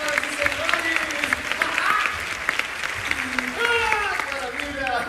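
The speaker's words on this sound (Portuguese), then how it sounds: "Aplausos para os senhores!" Audience applause after a musical stage show, a steady wash of clapping across the whole stretch with crowd voices and cheers mixed in, fairly close and full.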